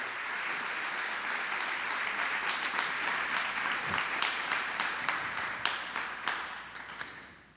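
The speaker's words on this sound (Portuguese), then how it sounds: "Vamos aplaudir ao Senhor." A church congregation applauds together, a broad steady clapping with distinct individual hand claps cutting through and growing more prominent toward the end before it fades.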